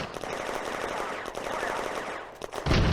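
Gunfire rattles in a World War II Eastern Front firefight video game, set on the city streets of Dalnegorsk in June 1941. Dense rapid bursts carry on for most of the stretch, and a heavier blast lands at the end.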